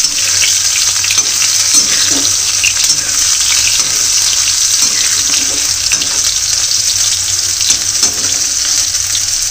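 Lentil dumplings (badi) frying in oil give a steady, close hiss of sizzling that runs the whole time, with faint stirring and no talk.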